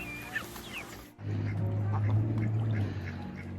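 Ducks quack faintly at a farm pond, with a few short calls over a steady low hum of outdoor background noise.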